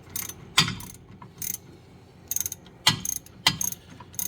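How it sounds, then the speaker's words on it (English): Ratchet with an extension tightening a bolt through the coil spring of a Cadillac CTS-V suspension during a hub swap, giving short bursts of sharp clicking, alone and close. "you come in with another extension and a ratchet through the spring"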